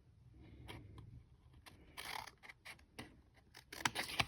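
Scissors snip through a paper envelope, a run of quick, crisp cuts and rustles that grow louder and busier toward the end, close by with no talking.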